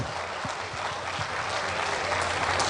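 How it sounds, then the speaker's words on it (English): An event crowd in Bahrain applauds the prize winners, with a thick, steady wash of loud clapping and some low thumps near the start. "Good job, round of applause."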